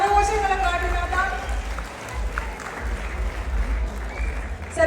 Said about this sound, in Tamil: எங்க உற்சாகமான கரகோஷங்களை காட்டினாதான்